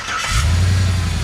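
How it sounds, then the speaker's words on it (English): A 1969 GMC 4x4 resto-mod pickup with a 5.3 LS-based V8 and dual exhaust cranks over and catches, settling into a loud, steady low rumble close by with no one talking. "And Gerald, you want to fire it up? We'll show you it running here"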